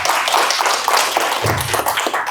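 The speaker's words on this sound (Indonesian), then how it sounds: "tepuk tangan untuk kita semua" An audience at a marketing talk on canvassing strategy claps steadily through the whole moment: dense, fairly loud applause with no speech over it.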